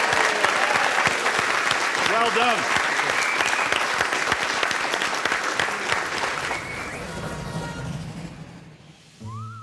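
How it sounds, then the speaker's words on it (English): Audience applause for a model railway team at a TV competition, a dense, steady clapping crowd with cheering that fades toward the end, while a presenter's voice speaks over it. "Team Corby, give them a round of applause."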